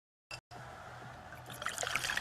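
Pepsi Zero Sugar pouring in a steady, continuous stream after a short opening burst, a gentle liquid rush that brightens and fizzes toward the end.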